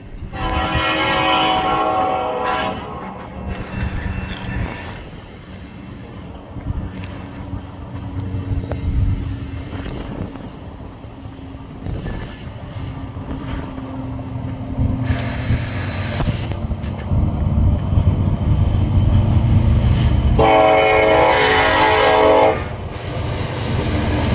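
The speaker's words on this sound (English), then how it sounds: "we see a grain train coming out of Fostoria with an ace long hood forward" A Norfolk Southern grain train led by an ACe locomotive running long hood forward passes near Fostoria, Ohio, with two loud horn blasts at the start and end over a steady rumble and clatter of rolling cars.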